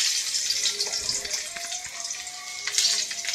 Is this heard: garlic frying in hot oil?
yes